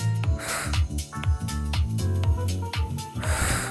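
Forceful nasal exhales from yoga breathing practice come as sharp, loud bursts of air at a steady rhythm over background music.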